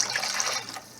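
A cup of water pours into a pot of beef stock, a brief, close splashing trickle lasting about a second.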